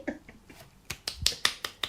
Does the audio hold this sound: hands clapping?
yes